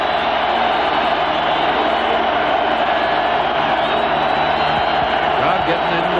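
A packed stadium crowd at a 1994 Colorado versus Nebraska college football game roars loudly and continuously, a dense steady wall of noise as the quarterback tries to call the play, with a commentator's voice mixed in.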